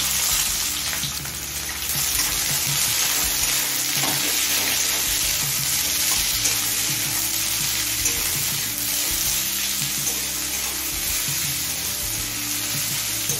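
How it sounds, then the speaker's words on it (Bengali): Chopped onions sizzle steadily in hot oil with whole cumin seeds and a bay leaf, a continuous close, loud frying hiss with occasional stirring. "এবার কুচিয়ে নেওয়া পেঁয়াজ দিচ্ছি 200 গ্রাম।"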